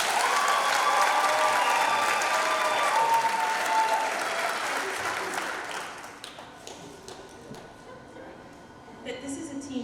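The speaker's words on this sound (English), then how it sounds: "Let's give her another round of applause." Audience at a Mr. BHS 2022 school pageant gives a long round of applause, loud and dense with cheers and whistles at first, then thinning out after about six seconds into scattered claps and crowd murmur.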